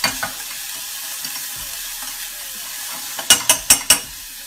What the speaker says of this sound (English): saute that off in a pot